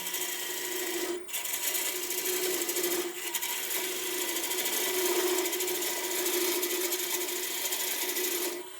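A turning gouge cuts a tenon on an olive wood bowl blank spinning on the lathe, giving a steady close rasping hiss with a brief break near the start and another around three seconds.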